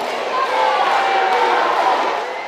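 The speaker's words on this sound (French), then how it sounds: "Tonnerre d'applaudissements pour accueillir le président du Faso." Thunderous applause and crowd noise from workers welcoming the president of Burkina Faso, a dense continuous roar of clapping and voices, loud and unbroken from start to finish.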